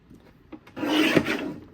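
A paper trimmer's blade slides across a card panel in one short, raspy swipe, close and fairly loud after a couple of soft taps.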